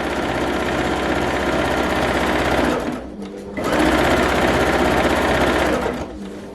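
A sewing machine stitches through a quilt in two long, loud, even runs of rapid mechanical whirring, broken by a brief pause in the middle.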